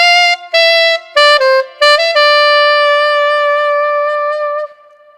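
An alto saxophone plays the opening line of a song: a few short separated notes, then a long sustained note held for several seconds, clear and close with no talking.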